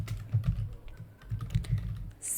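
Typing on a computer keyboard while entering PySpark code, a short burst of soft key clicks in quick rhythm, fairly close and quiet, with no voices.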